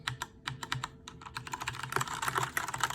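Typing on an Alienware 410K mechanical keyboard by Dell with Cherry MX switches: dense, loud, close clacking keystrokes in quick irregular bursts, with no voices.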